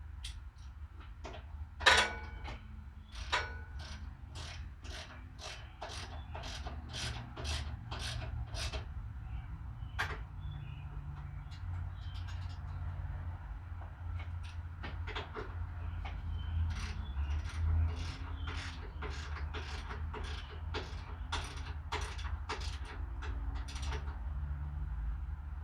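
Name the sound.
tightening a bolt on a Honda Shadow motorcycle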